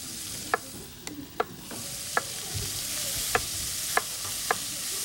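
Bacon, onions and garlic sizzle steadily in a pan, a constant bright frying hiss broken by several sharp clicks of a utensil stirring against the pan.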